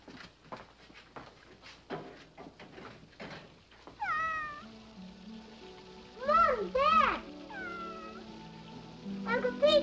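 A rain-soaked, half-drowned cat meows several times during a windy, rainy night, its drawn-out, plaintive cries rising and falling over soft patter and faint background sounds, with a few short bursts near the end.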